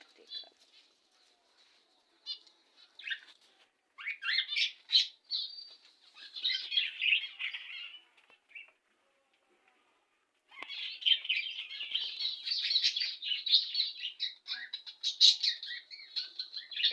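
A pair of budgerigars gives scattered chirps, then longer busy runs of warbling tweets and squawks, close and steady, with a quiet gap in the middle.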